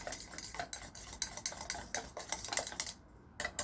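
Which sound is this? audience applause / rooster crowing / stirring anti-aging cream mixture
stirring anti-aging cream mixture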